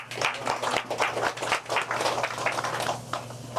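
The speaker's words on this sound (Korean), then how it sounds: "우리 이동구 회장님한테 또 박수 한번 부탁드립니다" An alumni association's general meeting applauds its president: scattered, moderately paced clapping from a modest gathering in a room, uneven and fairly soft, with a steady low hum beneath.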